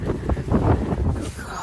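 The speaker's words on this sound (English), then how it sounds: "it's bloody windy" Strong wind gusting outdoors on a wet day, a steady broadband rush buffeting the microphone and swelling and dropping over a second and a half, with no one speaking.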